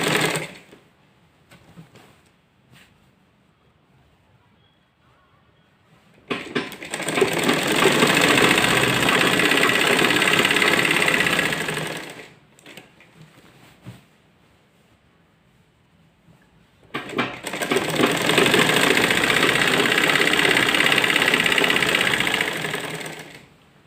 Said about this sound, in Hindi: चलिए हम सिलाई करके अब इस तरह से हम सिलाई स्टार्ट करेंगे।